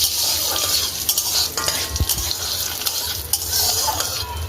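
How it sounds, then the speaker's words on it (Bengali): Spices sizzle in hot oil while a utensil stirs and scrapes against the pan, with a few sharp clinks and pops. "ফোড়ন দিলাম শুকনো লঙ্কা, সর্ষে, চাটনি"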